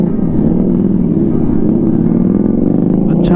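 Motorcycles gathered for a group ride to a haveli near Jalandhar give off a steady, loud, close engine rumble that holds without a break throughout.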